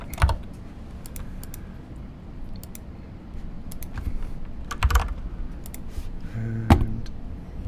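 Rapid clicks of a computer keyboard as code is typed, with uneven bursts of keystrokes close to the microphone and no talking.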